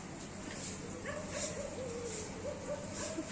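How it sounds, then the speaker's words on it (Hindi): Dogs bark and yelp at night, a string of thin, somewhat distant yips and whimpering cries that recur irregularly over a low background hum. "कुत्ते भौंक रहे हैं।"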